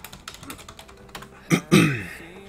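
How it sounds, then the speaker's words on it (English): Typing on a computer keyboard, a run of quick light clicks followed by two louder, heavier key strikes near the end. "Okay, I'm typing video game lever."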